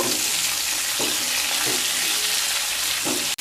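Pumpkin pieces and potato being stirred in a pan with salt and a pinch of turmeric, a loud dense sizzle with a few dull scraping strokes of the spoon, close and unbroken until it cuts off abruptly.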